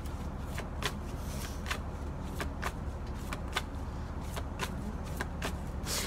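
Advice cards being shuffled by hand, a run of crisp riffling snaps and flutters at an uneven rhythm, close and fairly quiet over a steady low background hum.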